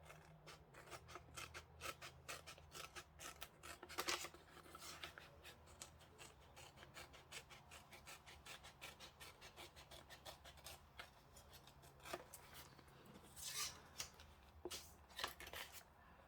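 Scissors trim the edge of a repurposed book cover, producing a long run of soft, close snips and rasping cuts at a steady pace, faint overall, with no voices.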